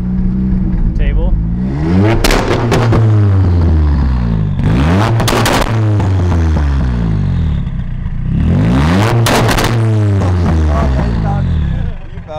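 A Mazda Miata MX-5 revving and letting off, its exhaust popping and crackling in bursts across several throttle blips, loud and close, with a voice talking over parts of it.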